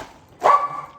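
A dog lets out a single sharp bark indoors near a window, close and fairly loud, ringing briefly in the quiet room.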